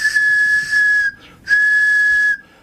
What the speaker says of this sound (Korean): 굵기와 길이, 재료에 따라 다양한 소리가 나는 호루라기 정말 신기하죠?